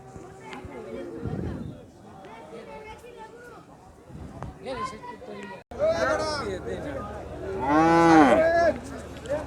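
Cattle at a busy Bangladesh cow market shove restlessly and let out loud, drawn-out moos, with one long, strong bellow near the end, while people talk nearby amid the general market murmur.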